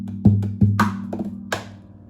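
A few soft, hollow taps and knocks on an acoustic guitar body, spaced irregularly, close and dry with a low resonant ring underneath.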